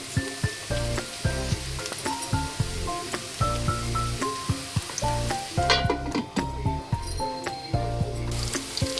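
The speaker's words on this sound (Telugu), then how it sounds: "దాన్ని మనం ఈ ఆయిల్లో యాడ్ చేసుకొని వాటిని బాగా వేగనివ్వాలి" Chopped onions fry in hot oil for a fish curry, giving a steady, close sizzle broken by repeated clinks and scrapes of a utensil stirring the pan, with no voices.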